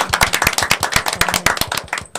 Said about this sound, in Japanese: じゃあ浅瀬さんに拍手